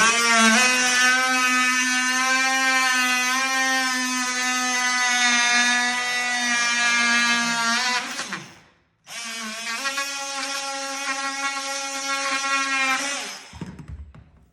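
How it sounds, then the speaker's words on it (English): An oscillating multi-tool cuts through door trim just above laminate click flooring, making a loud, steady, high buzzing whine that runs about eight seconds, breaks off briefly, then starts again for a few more seconds before stopping. "set your multi-tool over the top of it."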